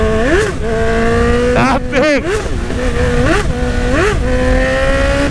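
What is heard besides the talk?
motorcycle engine revving in a video game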